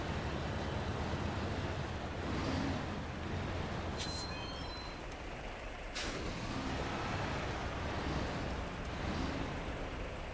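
Heavy truck in the SnowRunner video game driving through a creek, a steady broadband rumble of engine and splashing water throughout with a couple of brief hissing bursts, loud and close, no talk.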